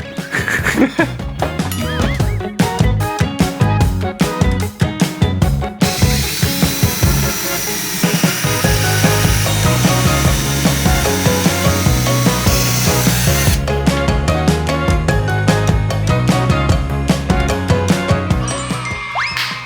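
A power drill whirs loudly in a sustained stretch while boring into a wooden cabinet, bracketed by bursts of choppy tapping and clattering from work on wood, with brief voices.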